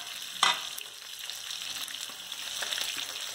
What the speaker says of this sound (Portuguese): Vamos deixar fritando um pouco aí.